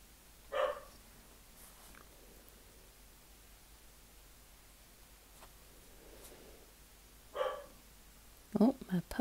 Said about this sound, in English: my puppy's barking at someone.